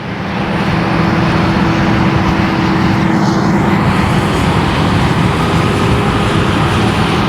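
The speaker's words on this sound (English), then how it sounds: "This is the old dump truck I'm driving right here." An old International dump truck's engine runs during a harvest, a loud, constant, close rumble with a broad roar that holds unchanged throughout.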